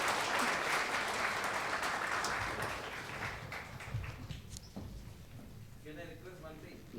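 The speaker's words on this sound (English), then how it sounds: "I can say round of applause" An audience applauds steadily at a corporate HR meeting, the clapping dense at first and then thinning out, with people talking as it fades.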